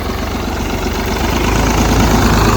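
A tractor engine idles steadily, a loud low rumble with a constant throbbing pulse and no voices.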